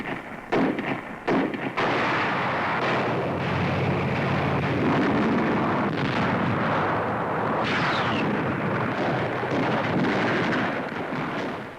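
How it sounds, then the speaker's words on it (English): Wartime archival combat with hand grenades thrown at pillboxes: dense, continuous rumbling blasts and booming detonations, loud and overlapping, with no pause between the explosions. "Hand grenades thrown by men who have thrown baseballs all their lives wipe out pillboxes."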